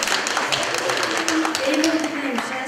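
Guests clap along at a family celebration, brisk rhythmic hand claps mixed with chatter and a singing voice over the noise.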